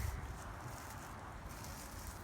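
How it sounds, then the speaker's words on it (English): Faint wind blows steadily outdoors during a clay-working session, a soft broadband rush with a few low buffeting gusts at the start and no voices. "It's a little bit windy here."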